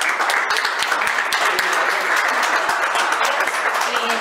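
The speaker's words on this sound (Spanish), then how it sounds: "Un aplauso para Cintia." Audience applause at a small community market event, a sustained dense wash of many hands clapping at a steady level throughout, fairly close and uninterrupted.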